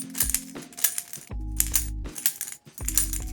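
A lightsaber hilt's bottom pommel being unscrewed, heard as a series of sharp metallic clinks and scraping threads in bursts, close and fairly loud, with no talking.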